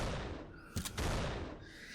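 Gunfire from a VR shooter game, Hollow Remnant: a brief cluster of sharp shots lands in the middle of a steady, dense background of game noise, loud and close.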